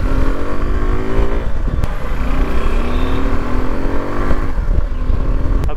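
Suzuki V-Strom 250 SX motorcycle accelerating hard toward top speed, its engine note climbing through gear changes with steady loud wind roar throughout, close and continuous.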